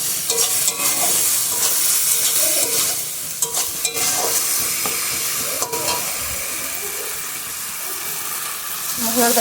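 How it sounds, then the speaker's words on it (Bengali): Spice paste and green peas are stir-fried in a pan, giving a continuous sizzle and hiss broken by scraping stirs and occasional clinks, close and fairly quiet, with no speech. "ভালো করে মশলাটা মটরশুঁটিটা কষে নেব"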